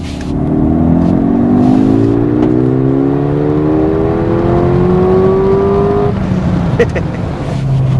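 A 2025 Mercedes GLA 35 AMG four-cylinder engine in Sport Plus mode revs loudly and climbs steadily in pitch, then drops off, with a faint voice over it near the end.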